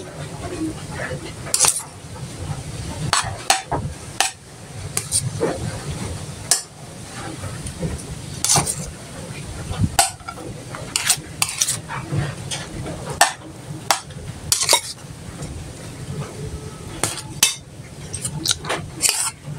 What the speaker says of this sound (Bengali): আর এখন প্লেটে দিচ্ছি ছেলে মেয়েদেরকে।